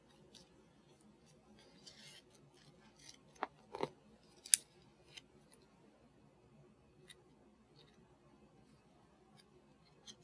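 Scissors trim one edge of a PolyMem wound dressing, a few faint, close snips and crisp clicks scattered over a quiet background.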